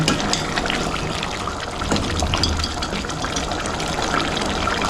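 Country chicken curry with masala, ginger and garlic boiling in a pan, a loud continuous bubbling and gurgling with no break.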